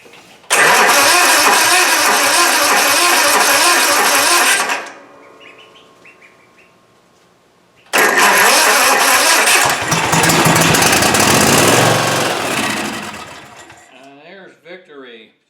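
A Cub Cadet zero turn mower engine fires up on starting fluid, loud steady running for several seconds, stalling, then restarting and running again before fading, with voices in the background.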